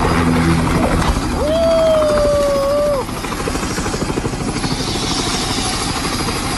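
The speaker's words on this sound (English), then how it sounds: "This helicopter landing too hard, causing the main rotor to strike the tail." A helicopter lands too hard and its main rotor strikes the tail, producing a loud, dense mechanical roar and rapid chopping. A rising-and-falling whine passes over it partway through, then the noise drops to a steadier, rougher clatter.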